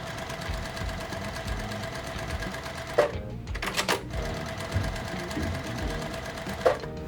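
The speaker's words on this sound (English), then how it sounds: "I'm gonna sew these 2 pieces together, these 2 pieces together, and then our row together there." A sewing machine runs steadily while joining quilt pieces, a close continuous whirring hum broken by a few sharp clicks and brief rustling handling sounds.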